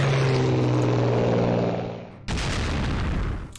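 A carrier plane sounds off in the war strategy game Strategic Command, a loud roaring engine drone that fades, then a sudden booming burst of broadband noise, with no talk.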